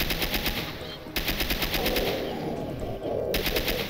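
The Pepper Grinder gun from the Alice video game fires in rapid rattling bursts, loud and up front, with a short break between volleys.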